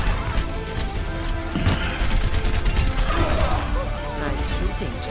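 Overwatch gunfire in rapid, clattering bursts with crashing impacts, loud and continuous throughout.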